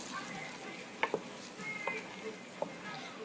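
A spoon stirs peanut butter into BBQ sauce cooking on the stove, a soft low sizzle underneath with a few light taps and scrapes scattered through.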